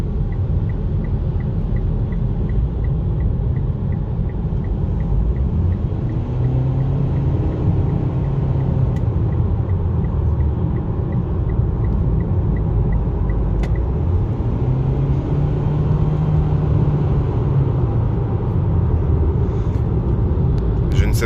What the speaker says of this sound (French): On va essayer une petite accélération rapide là.